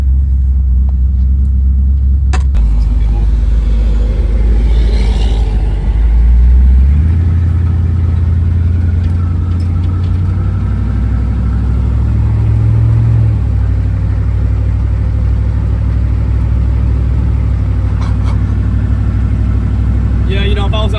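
A Chevy Nova engine running with a loud, steady low rumble throughout, its pitch shifting as the revs change partway through.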